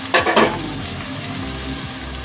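Onions fry in a pan until dark brown, giving a loud, continuous sizzle with a brief stirring scrape near the start.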